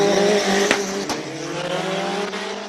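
Race car at a purpose-built hill climb during a qualifying run, engine roaring close and loud with sharp tire squeal and skidding, a sudden transient burst near the start, then a steady harsh drone as the car passes.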